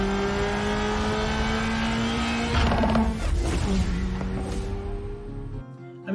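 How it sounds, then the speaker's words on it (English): A 2024 Acura Integra Type S with a manual gearbox and an active exhaust valve in Sport Plus mode drones steadily up close, swelling as it revs, with a few crackling bursts before the sound cuts off near the end. "an active exhaust valve that in Sport Plus mode will provide pops and bangs as well"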